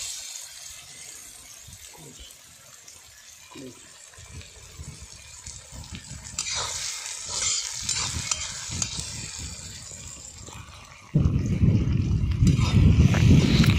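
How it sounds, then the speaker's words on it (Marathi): Masala with coriander roasts in oil for egg bhurji, a low sizzle with stirring scrapes that grows steadily louder and ends in a strong, close frying hiss, with brief talk early on. "कोथिंबीर टाकल्यानंतर आणि परत आपल्याला ते व्यवस्थित तेलात भाजून घ्यायचं"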